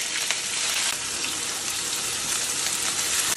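Ginger, onion, chili and garlic frying in hot oil in a pan, a loud, steady sizzle with light stirring throughout.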